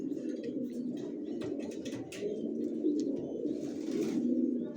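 Young white racer pigeons coo in a low, soft, continuous murmur close by, with a few faint chirps layered over it and no speech.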